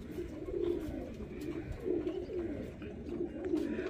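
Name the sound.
pigeons cooing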